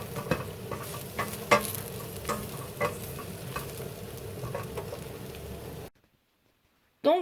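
Apples and breadcrumbs for apple strudel cook in a pan, a steady close sizzle with scattered stirring scrapes and clicks. The sound cuts off abruptly near the end, then a brief burst returns.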